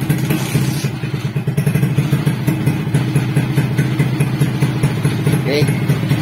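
Suzuki Smash 115 motorcycle engine running steadily after a restart, a loud, close, continuous low rumble with rhythmic uneven putter and some mechanical clatter, on a bike that misfires badly and struggles to take throttle.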